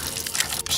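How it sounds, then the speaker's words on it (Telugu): Water gushes steadily from a leaking household tap, a brief close-up rush of running water with no talking. "నువ్వు ఫోన్ చేసినప్పటి నుంచి ఆ ట్యాప్ కారుతూనే ఉంది"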